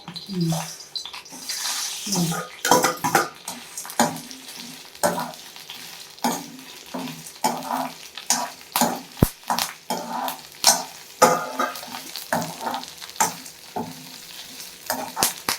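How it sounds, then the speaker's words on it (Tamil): Spices dry roast in a pan for mutton salna, stirred with repeated scraping strokes that land in an uneven rhythm over a soft background rustle, close and moderately loud. "இதை வறுத்து எடுத்துக்கிடுவோம்."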